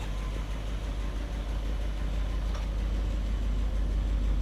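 A 1959 Chevrolet Bel Air idles steadily after its first start of the year, a low, even engine rumble close by with no talking.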